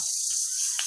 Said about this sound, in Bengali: এই যে ঝিঝি পোকা ডাকছে